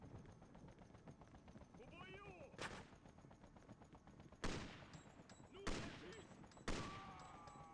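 Gunfire in the shooter Freedom Fighters during a Brooklyn hotel mission: four loud, separate shots, the last three fairly close together, over low game ambience with some background effects.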